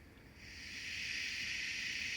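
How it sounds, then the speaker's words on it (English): A model steam locomotive's built-in speakers release a steady steam hiss that swells during the first second and then holds loud and close, with no voices over it. "It's the steam."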